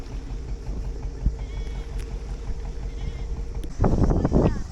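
Goats bleat near the end, heard from a sailboat over a constant low rumble of engine and water, with faint animal calls earlier in the steady background noise.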